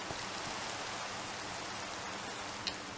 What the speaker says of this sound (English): Don't you just hate it though when it rains?